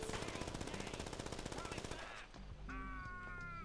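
Rapid automatic gunfire in a video game rattles steadily for about two seconds, then stops, followed by a short low thump and a brief electronic tone.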